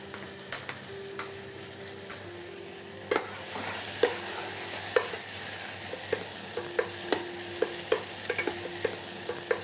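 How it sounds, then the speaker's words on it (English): Ginger garlic paste sizzles in hot oil in a pan while a spoon stirs and scrapes it, a steady frying hiss punctuated by sharp regular clinks and knocks of the utensil, close and clear. "At this stage, we can add some ginger garlic paste."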